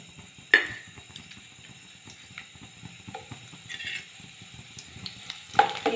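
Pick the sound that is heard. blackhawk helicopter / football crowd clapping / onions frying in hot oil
onions frying in hot oil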